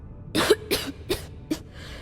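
A character coughs four times in quick succession in the Starfield video game, each cough a sharp, close, rasping burst with short gaps between them, ending in a faint trailing breath.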